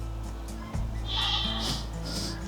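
A goat bleats inside a pub, one drawn-out wavering call rising over a low steady hum, fairly close and clear.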